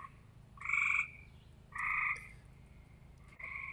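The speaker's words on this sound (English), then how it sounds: "there's all kinds of frogs" Several frogs give loud, nasal croaks close by, in three distinct bursts separated by short pauses, over a faint low background hum.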